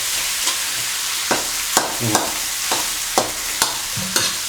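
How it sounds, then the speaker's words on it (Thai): Spicy fried catfish stirred in a hot pan, a constant sizzle of frying broken by about eight regular scraping strokes of the spatula, close and clear, with no talk. "แล้วคราวนี้เราก็คนได้แล้วครับ"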